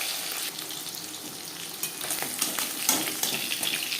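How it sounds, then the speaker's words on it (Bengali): Bata fish pieces frying in hot oil, a continuous close crackling sizzle with occasional sharper pops and light stirring, no voices. "প্রথম ব্যাচে মাছ ভাজা হয়ে গেছে একটা পাত্রে উঠিয়ে নেব"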